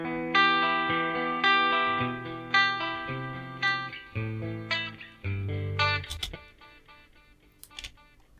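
Clean electric guitar solo through a Nux MG30 emulating a Fender Princeton amp, bright plucked notes and chords ringing with light effects and echo, loud and alone, tailing off into fading sustained notes.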